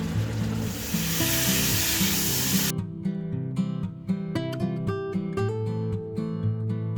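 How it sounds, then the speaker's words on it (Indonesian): Coriander powder and bay leaves sizzle and fry in a pan while being stirred, a dense steady hiss over the first few seconds that gives way to clinking utensil taps and scraping. "Saya aduk sebentar untuk meratakan bumbunya"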